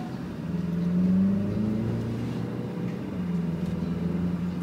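A new Volkswagen Golf GTI's engine pulls steadily under acceleration on a test drive, a loud continuous drone heard from inside the cabin whose pitch rises and then holds.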